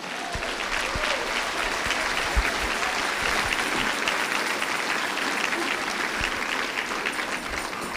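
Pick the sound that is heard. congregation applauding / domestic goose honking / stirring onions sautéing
congregation applauding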